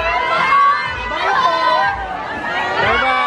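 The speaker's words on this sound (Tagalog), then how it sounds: "we're waiting because there's a big crowd and we cannot leave like this" A big crowd chatters and shouts near an exit, a dense babble of many voices with children's calls rising and falling throughout.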